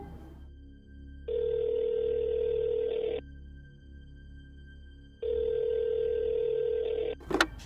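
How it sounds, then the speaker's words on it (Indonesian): Outgoing telephone call ringback tone, two long steady tone bursts separated by a pause over a low hum, cut off at the end by a brief click as the call connects. "Dia telepon tuh si Dewi."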